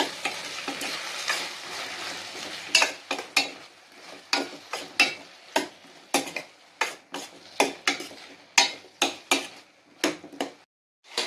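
Turmeric and spices sautéing in a pan for a brinjal and chilli tamarind kuzhambu, with a faint sizzle under a string of regular sharp scraping strokes as a spoon stirs, close and alone.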